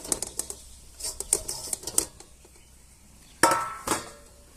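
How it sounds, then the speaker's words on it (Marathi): Metal lids lifted off cooking pots on a switched-off stove while steaming patoli, a Marathi Nagpanchami sweet, giving a scatter of light clinks and rattles and then a sharper clatter near the end, close up and fairly quiet. "आपण झाकण काढून बघूया शेगडी बंद करूया हे दुसरं पण झाकण काढून बघूया"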